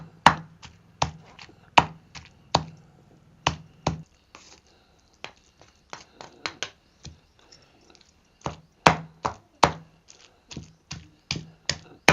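Green tomato chutney for a wood-fired stove recipe is crushed in a stone mortar, with sharp, close pounding knocks coming in quick bursts separated by brief pauses.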